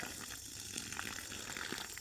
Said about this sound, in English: So I'm going to water them a little heavier today on the plants that I can.